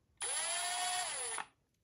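A Milwaukee M12 Fuel cordless impact driver whirs at a high, steady pitch for just over a second, then winds down, close and clean with no talking.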